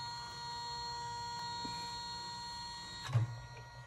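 An embroidery machine runs with a steady motor hum and faint tonal whine as its hoop travels to the home base, ending in a brief clunk near the finish.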